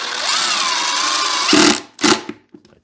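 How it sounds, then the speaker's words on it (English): A power drill whines steadily as it bores through a wooden piece during beekeeping equipment repair, its pitch rising at the start, then bursts of grinding bite and a final stop with small clatters. "And again, I'm drilling through this piece."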